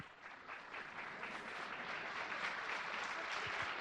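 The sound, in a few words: audience applause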